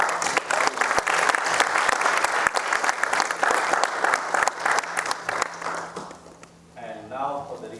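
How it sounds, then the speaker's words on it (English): A large audience claps steadily for the volunteer team at a campus speaker event at a medical center, dense applause that tapers off near the end as a voice begins talking. "So please give a big round of applause for us."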